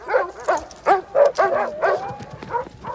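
Sled dogs kept on chains in a racing kennel bark, yip and whine excitedly as cold weather arrives, several overlapping close-up calls in quick, uneven bursts with high whimpering tones between barks.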